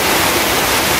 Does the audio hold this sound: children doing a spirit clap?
no